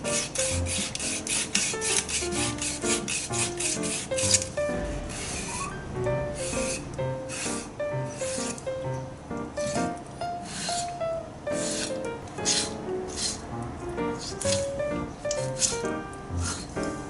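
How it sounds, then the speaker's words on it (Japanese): Kitchen knife sawing through a huge moray eel, its flesh and hard bones giving a steady rasping, scraping rhythm of repeated strokes, close and continuous throughout. "三枚おろしにしやすいように普通の魚ぐらいのサイズに切っていきます。"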